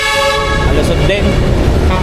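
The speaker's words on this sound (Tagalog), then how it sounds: "Nakakabingi pa yung ano, yung busina." A loud vehicle horn blares continuously right beside a rainy road crowded with trucks, a harsh, sustained tone that drowns out other noise.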